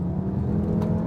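Audi RS3 2.5-litre turbocharged engine with optional sports exhaust, a loud, continuous low rumble held steady for about a second.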